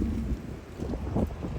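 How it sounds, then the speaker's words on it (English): Strong outdoor wind buffeting the microphone in a steady low rumble with gusty swells, close and fairly loud throughout. "It's been so windy today."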